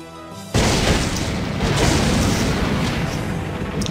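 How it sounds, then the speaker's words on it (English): Explosions in the visual novel Dies irae ~Amantes amentes~, a sudden heavy boom that erupts into a long, roaring rumble of continuous blasts, loud and sustained after a quieter music-backed lead-in. "a barrage of continuous explosions, filling the area with flames and dust"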